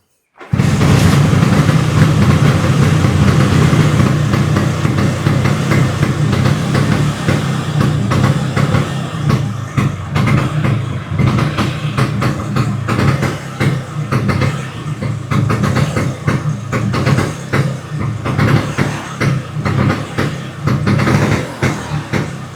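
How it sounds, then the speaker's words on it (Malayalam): A Bajaj Chetak scooter engine starts abruptly and keeps running: a close, steady two-stroke idle with a rough, uneven putter that carries on to the end. "കിക്കർ അടിച്ചാൽ സ്റ്റാർട്ട് ആവും. അങ്ങനെ ഒന്ന് സ്റ്റാർട്ട് ചെയ്ത് കാണിക്കോ ഈ വണ്ടി?"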